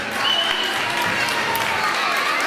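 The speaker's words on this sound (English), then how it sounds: "I ask you all to give a full applause for St." A crowd at a St. Patrick's Day parade event at a community centre in Cork applauds, a fairly faint, even wash of many hands clapping that holds steady throughout.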